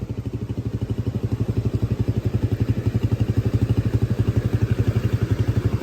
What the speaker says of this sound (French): Bon, allez, il va traverser avec la moto.